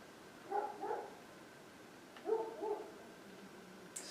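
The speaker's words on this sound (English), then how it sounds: "Excuse the dog." A dog barks twice from a distance, two muffled, hollow woofs a couple of seconds apart over a quiet background, with no voices.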